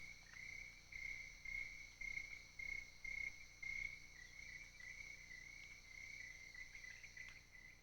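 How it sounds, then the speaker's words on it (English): Crickets chirping at night: faint, steady high-pitched trills repeating in regular pulses, continuous and alone without voices, distant and quiet against a low background hush. "listening to the crickets and the stars."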